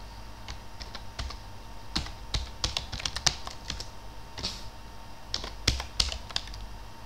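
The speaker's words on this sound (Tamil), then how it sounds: "ஓகேங்களா, இந்த மாதிரிலாம் நேம் வந்து டைப் பண்ணி வச்சுருக்கோம்." Someone types names into an Excel sheet on a computer keyboard, producing bursts of close, crisp key clicks separated by short pauses, with no voice over them.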